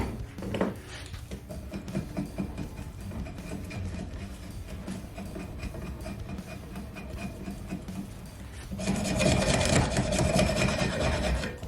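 Knife shaving along the curved contour of a wooden axe handle during a restoration, a steady close rasping and scraping that runs continuously and grows louder and rougher toward the end.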